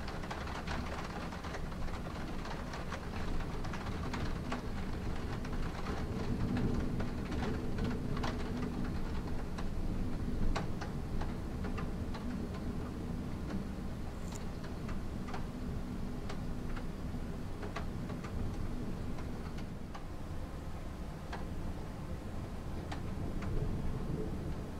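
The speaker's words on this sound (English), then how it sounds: "Looks like the storm is over, or mostly anyway." Steady rain falls through a passing storm, a dense continuous wash with scattered sharp drips and taps, fairly close and even in level, with no distinct thunder clap standing out.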